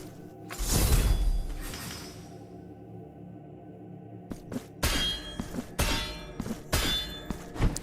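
A bell struck in the video game Blasphemous 2: a loud resonant clang rings out and decays, followed by a series of quieter metallic knocks and thuds in uneven rhythm.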